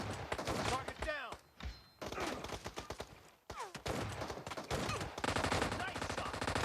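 Shotgun gunfire in PUBG Mobile, loud close bursts of shots in quick irregular clusters mixed with game announcer voices and callouts, with short pauses between volleys.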